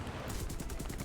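In a flight combat video game, a Spitfire Mk Vc's guns fire at a P-47 as a rapid, continuous rattle over a dense engine and wind roar, brief and fairly quiet.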